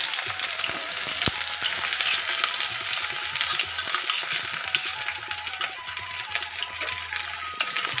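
Chopped onions fry in hot mustard oil, a loud, steady sizzle with dense crackling and a few light clinks, close up and without speech.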